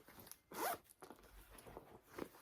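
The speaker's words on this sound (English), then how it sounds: "The back has a zipper pouch here" Zipper on the back pouch of a thrifted handbag being pulled, a quick rasping zip followed by a few softer scrapes and rustles, close and quiet with no talking.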